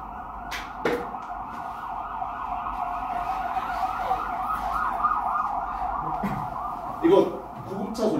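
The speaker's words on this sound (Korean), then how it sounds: "이거 구급차 소리죠?" A steady wailing ambulance siren sounds continuously, fairly loud, with a couple of brief knocks and faint background noise.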